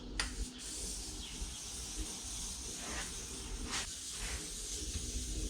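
Aerosol adhesive hisses steadily from a spray can onto a car headliner board, a continuous close, moderately quiet spray with slight pulses and no talking.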